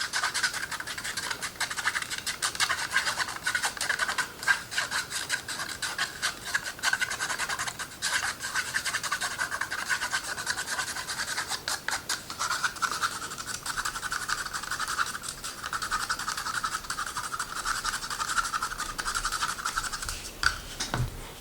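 Airbrush paint mixture is stirred in a cup, giving a continuous close scraping and rubbing with fine rhythmic strokes that runs steadily throughout, with no talk.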